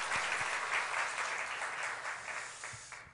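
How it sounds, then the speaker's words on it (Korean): A church congregation at a Sunday anniversary service claps together in steady, fairly faint applause that gradually fades toward the end, heard in a reverberant hall. "우리 큰 박수로 한번 축하하도록 하겠습니다"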